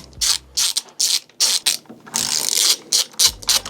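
A driver bit backs screws out of a Onewheel XR Classic board, giving a rapid ratcheting, mechanical clicking in repeated close, loud bursts with short pauses between them.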